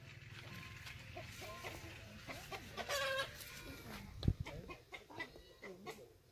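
Chickens cluck at close range in a grape vineyard in Phan Rang, Vietnam, with repeated short clucks and a louder squawk partway through over quiet background murmur.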